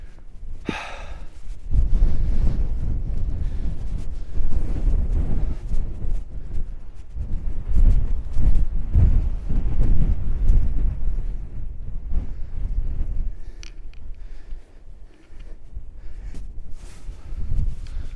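Strong wind buffets the microphone in heavy, rumbling gusts that swell and fade, with a sharp breathy exhale near the start.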